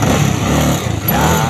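A motorcycle engine runs steadily up close, a continuous low throbbing drone with some rumble, holding a fairly constant pitch throughout.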